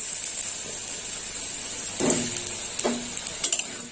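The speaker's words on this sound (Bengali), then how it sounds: "আলুটা একটু বেশ ভালো করে ভাজা হবে" Cut potatoes fry in a pan with nigella seeds and dried red chillies for a spiced potato and eggplant curry: a steady, fairly quiet sizzle runs throughout, with a few stirring scrapes toward the end.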